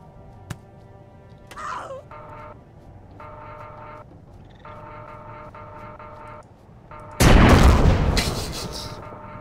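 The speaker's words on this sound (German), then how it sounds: "Alter, schießt du auf mich?" Gunfire in the space survival video game Empyrion Galactic Survival: a sudden, loud, dense burst of shots erupts near the end over quieter game ambience and a steady tonal background.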